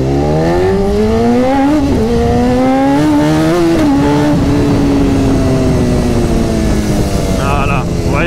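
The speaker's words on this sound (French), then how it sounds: "On va faire une petite accélération." A 2013 BMW S1000RR sportbike accelerates hard in race mode, its loud engine note climbing steadily through the gears with brief dips at each shift, close and continuous, with a sharp whine near the end.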